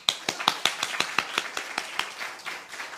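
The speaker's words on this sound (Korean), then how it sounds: "박수!" Rhythmic clapping by a church congregation at an evening revival service, a steady run of about fifteen sharp claps fairly close, loosening toward the end.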